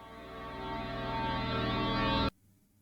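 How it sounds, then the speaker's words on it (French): Susie's monster roar from the video game Deltarune: a loud, buzzy, harmonic drone that swells steadily for about two seconds, then cuts off abruptly into near silence. "Ça, c'est le bruit de Suzy, ça."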